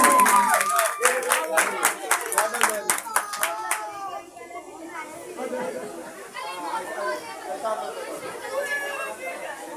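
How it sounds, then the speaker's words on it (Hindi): Children's program audience gives rhythmic, loud clapping for a girl who answered correctly, then the claps break up into crowd chatter and voices. "बेटी के लिए जोरदार तालियां"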